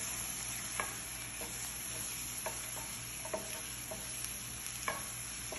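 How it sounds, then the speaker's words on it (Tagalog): Rice with turmeric and spices is stirred in a pan, a spoon scraping and tapping in sporadic strokes over a quiet, steady sizzle, close and without talk. "at mimix ko siya"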